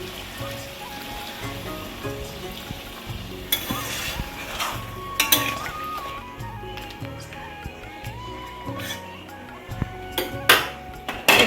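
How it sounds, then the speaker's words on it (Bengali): Water is splashed into a hot cooking pan, followed by sizzling and the scrape and clatter of stirring, a continuous bubbling hiss broken by sharper utensil knocks; no voices. "এবার হালকা জল দেবো"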